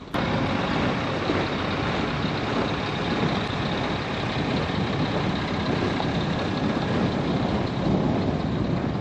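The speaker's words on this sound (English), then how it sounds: "This is a traverser getting fuel." A traverser vehicle idles while being refueled at Summit Camp on the Greenland ice sheet, producing a steady, broadband diesel rumble that stays constant with no talking.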